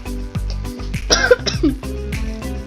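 A single sharp cough bursts out over steady, looping background music from a Roblox game session.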